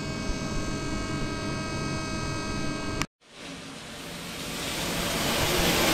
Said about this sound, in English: And now we're showing 20 bar through spindle coolant.